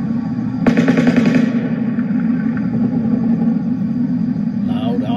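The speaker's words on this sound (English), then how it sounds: "It sounds like automatic gunfire." A sharp, rapid burst of automatic gunfire lasting about a second during the Las Vegas shooting, followed by a steady low rumble and faint background voices outdoors.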